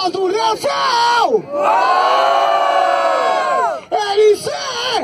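Loud crowd at a rap battle final in Barueri, São Paulo roars with cheering, whoops and shouts, a sustained wall of voices that swells between bursts of nearby shouting.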